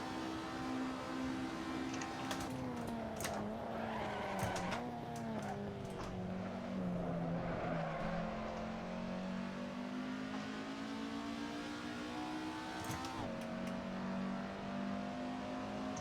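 Skoda 130R race cars in Assetto Corsa engines droning steadily with pitch dropping as they brake hard into a corner, then climbing again, with a few brief sharp transients; continuous and fairly loud, no talk over it.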